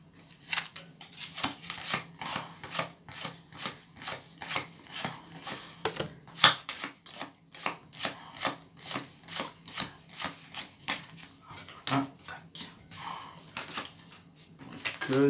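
Cards shuffled and drawn for a fortune-telling reading, a run of crisp riffling flicks and soft slides repeating in quick bursts, close up and alone.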